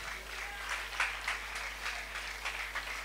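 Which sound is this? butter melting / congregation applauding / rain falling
congregation applauding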